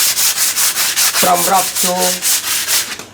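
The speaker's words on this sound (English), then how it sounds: "we're going to sander it to clean it with sandpaper from rough" Sandpaper rubbing wood in even, rhythmic strokes, loud and close, with a brief spoken voice partway through.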